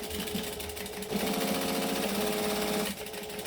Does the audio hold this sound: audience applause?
no